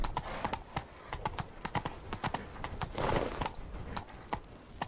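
Horse hooves in The Witcher 3 video game, a steady rapid clip-clop of galloping close by, with faint jangling tack and no talk over it.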